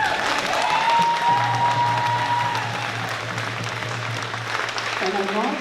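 A graduation audience claps in a sustained wash of applause, steady at first and then slowly thinning, while a low tonal hum and a brief voice-like tone sit beneath it.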